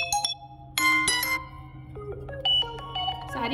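A ringtone preview on an iQOO Neo 7 SE phone, a quick chiming melody of bright bell-like tones and short beeps that steps up and down over a few seconds, with no talking.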